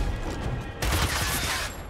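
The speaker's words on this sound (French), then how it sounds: "je vais lui tirer dessus" Dense, continuous video-game gunfire, a steady roar of rapid shots that jumps louder partway through and holds close and heavy before easing slightly at the end.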